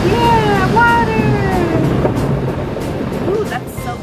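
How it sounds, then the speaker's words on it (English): Water sprays and rushes over a car inside a drive-through car wash, a steady close hiss heard from within the vehicle, with people talking over it. "we're in the you know, the drive-through car wash"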